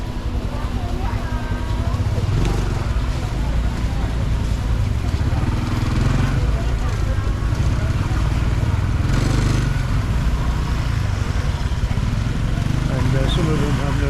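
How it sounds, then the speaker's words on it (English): Motorbikes revving as they push through a crowded shopping street in Bangkok's Chinatown, heard as a steady loud engine drone mixed with dense crowd noise. "Not helped by the motorbikes that want to drive through the crowds."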